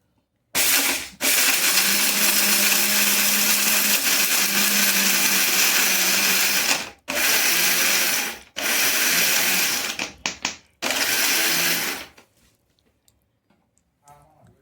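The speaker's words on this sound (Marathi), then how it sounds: "याला फक्त मिक्सरमध्ये ग्राइंड करून एकजीव करावं" A kitchen mixer grinder whirs loudly grinding seeds in several long bursts separated by brief stops, ending with a few short pulses before falling silent.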